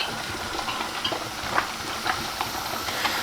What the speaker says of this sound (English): I had the water boiling.